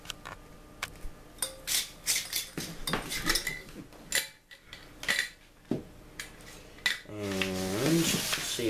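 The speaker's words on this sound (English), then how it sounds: "So I'm going to grab a jar from my apothecary." A glass apothecary jar handled in a kitchen while dried staghorn sumac is gathered, with repeated clinks, knocks and rubbing scrapes at close range, ending in a steadier rushing noise.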